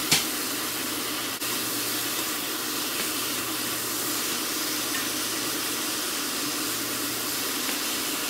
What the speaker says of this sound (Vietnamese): Rồi mình xào gà.